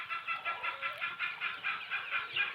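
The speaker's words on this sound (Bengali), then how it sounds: "দেশি মুরগির ফার্ম থেকে আপনাদেরকে স্বাগতম।" Native desi chickens on a farm cluck in a quick, regular string of nasal calls, moderately close and fairly quiet, with no people speaking.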